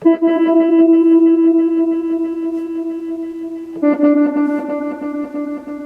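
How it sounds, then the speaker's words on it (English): Looped Casio keyboard tones with a reverse echo effect, two sustained layered chords with a swelling, smeared repeat, steady and fairly loud with no talking. "We just add the reverse echo."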